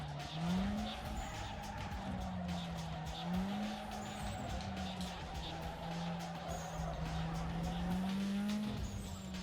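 A race car in Need for Speed Underground 2 braking hard in fifth gear with nitrous, its engine droning steadily while tires squeal and skid throughout, loud and continuous.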